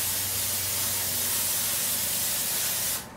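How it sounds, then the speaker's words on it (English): Non-stick coating sprayed from a can into an 8-inch square baking pan, a loud continuous close hiss lasting about three seconds before cutting off. "I'm going to spray it with a non-stick coating."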